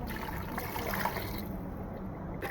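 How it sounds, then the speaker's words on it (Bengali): Water is poured from a container into spiced beef for kebab, making a steady splashing trickle that stops partway through. A brief clatter follows near the end. "আমি এই পানিটা এখানে দিয়ে দিব"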